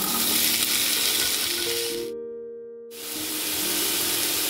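Potatoes fry in oil with browned garlic in a pan for a fenugreek-greens dish, giving a steady close broadband sizzle that cuts out abruptly for about a second before resuming just as loud.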